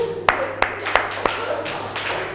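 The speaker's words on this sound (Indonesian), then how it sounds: "Luar biasa, tepuk tangan." A classroom group clapping hands, heard as about five sharp, separate claps spaced evenly and close, with low murmuring underneath.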